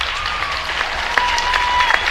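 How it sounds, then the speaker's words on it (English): A crowd applauds the seniors at a high school basketball game in a gym, steady clapping from the stands with a few sharp claps standing out. "can we have one more round of applause for all of our seniors?"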